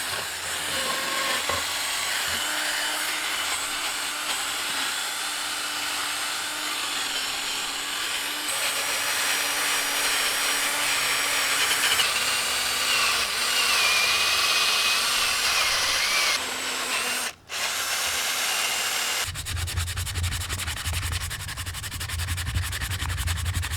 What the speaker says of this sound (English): just take some sandpaper and get rid of a little lip in there